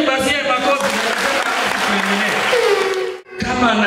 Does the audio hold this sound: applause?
yes